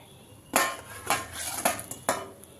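Fried anarsa sweets set down one by one into a metal utensil, giving four sharp clinks and clatters at steady intervals, close and fairly quiet with no talking.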